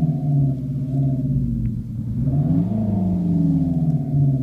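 Gordini-mode engine note from the synthetic sound generator in a 2014 Renault Clio GT, a steady mid-low drone that sags slightly mid-way and then swells back, heard alone at a constant close level.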